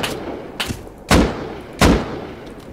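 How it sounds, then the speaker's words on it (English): Gunshots in the video game Rust, two heavy booming shots about a second apart after a couple of fainter reports, each with a short decaying tail. "I can hear the shots"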